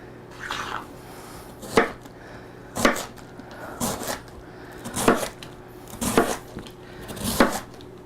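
A knife slicing cabbage thinly for sauerkraut on a cutting board, six or seven crisp crunching cuts at a steady unhurried rhythm, close and clear against a quiet kitchen hum.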